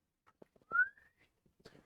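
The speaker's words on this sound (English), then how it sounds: "Sharp whistle throughout the woods." A person whistles once, sharply and briefly, in the woods to call a companion back, with a rising tone and faint rustles around it.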